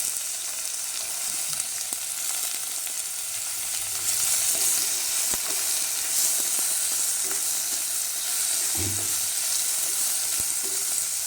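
Tomatoes with onion masala sauté in a pan for a Kerala sardine curry, a steady close hissing sizzle with occasional spatula scrapes and taps, and no talking.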